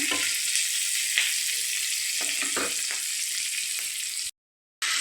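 Chana chilli curry seasoned with salt is stirred in a hot pan, a steady close sizzle with scraping stir strokes, cutting to brief silence near the end.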